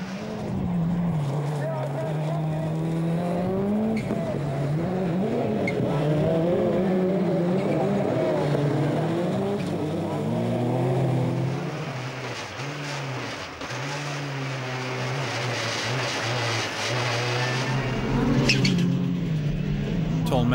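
Rallycross race cars, including a Peugeot 207, race at Lessay with engines rising and falling in pitch as they pass, loud and continuous, with a commentator talking over them.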